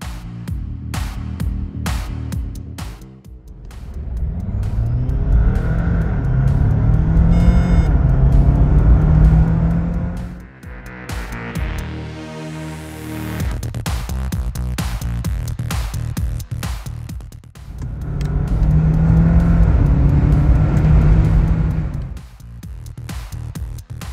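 A 2022 Jeep Wrangler 4xe Sahara plug-in hybrid drives off-road, its engine rising and falling through three long, loud acceleration surges with rattling and a brief lull between them, no speech.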